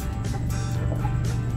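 A rooster kept near a DIY egg incubator makes a brief, close throaty call, heard alone over a noisy background.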